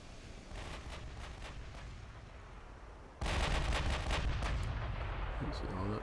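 Naval gunfire from warship battle in Ultimate Admiral: Dreadnoughts with the USS South Dakota (1920): a dense, steady rumble of distant booming salvos that turns into a sudden louder barrage midway, continuing heavily to the end.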